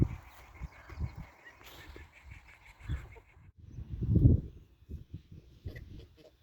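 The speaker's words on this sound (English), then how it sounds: "Trying to get our geese a little bit more used to us." Farm geese give low, rough honks and quacking calls in an irregular run, one louder burst partway through, close by and fairly quiet in the morning open air.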